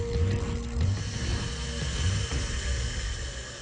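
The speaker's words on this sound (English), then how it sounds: "the exact same ideas that Nikola Tesla came up with 100 years ago are still used today in induction motors such as this one" Mechanical whirring and rhythmic clicking come from a spinning electric induction motor rotor, with a steady hum and some periodic ticks, moderately loud and without speech.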